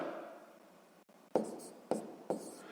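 A pen writes numbers by hand on paper for a sixth-grade math exercise, a soft scratching stroke followed by three sharper taps or strokes, close and quiet with no talk.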